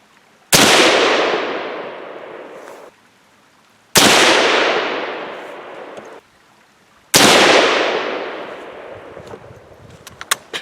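Three loud Mosin-Nagant rifle shots in 7.62x54R ring out roughly three seconds apart at an outdoor range, each a sharp blast followed by a long decaying echo, with a faint distant ping near the end.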